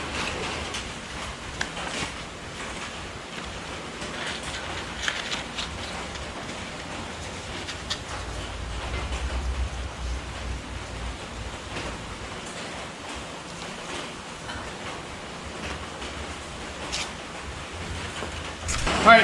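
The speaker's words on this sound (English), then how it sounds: "you might hear the rain outside" Steady rain falls outside a garage, a faint continuous hiss with scattered light taps and occasional rustles, distant and soft throughout.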